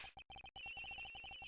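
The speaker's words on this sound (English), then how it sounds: "The ringing's coming from somewhere in here, sir." A telephone rings in the Ace Attorney Investigations video game, inside a flight attendant's room on a plane. The electronic ring comes as a quick, steady train of bursts, clear and uninterrupted, with no voices.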